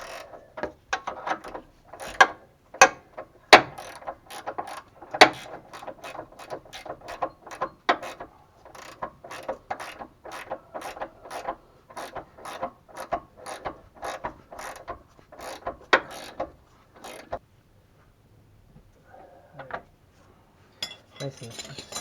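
A ratchet with a 19 mm socket tightens a ball joint bolt on a 2009 Mitsubishi Lancer, making rapid, crisp close-up clicks in quick bursts. It pauses briefly near the end, then gives a few last clicks.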